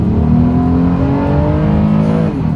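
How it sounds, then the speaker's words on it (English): A 2025 Honda Odyssey minivan in sport driving mode accelerates hard from a standstill, its engine loud and close, with the pitch climbing steadily and then easing near the end. "That was actually a pretty darn good acceleration there."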